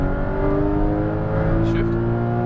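A Porsche Cayman GTS accelerates on a race track, its engine droning in a steady, rising tone heard from inside the cabin, with an instructor's voice talking over it.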